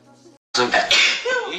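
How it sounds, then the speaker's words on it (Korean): A person gives a short, sharp cough or throat clear, loud and close, following a brief faint murmur and a moment of silence. "기침 소리가 아름답고"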